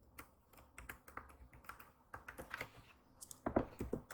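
Quiet, close typing on a computer keyboard while writing an HTML and CSS form, irregular clusters of soft key clicks with short pauses between words.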